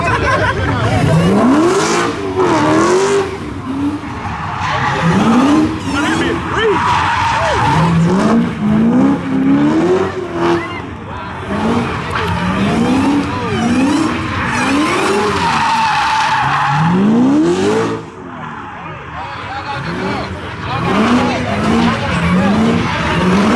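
A Chevrolet C10 truck squeals its tires in repeated bursts, the engine climbing and falling in rapid rev cycles at a street takeover, loud and close, with crowd chatter and shouts mixed underneath.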